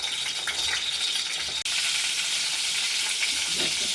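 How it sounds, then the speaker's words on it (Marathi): Stuffed eggplants filled with spicy green masala fry in hot oil, giving a loud, steady, dense sizzle that runs unbroken for the whole stretch apart from one momentary dropout, with no voices. "आणि हे असे तेलामध्ये तळून घ्यायचे भाजी बनवण्याच्या अगोदर।"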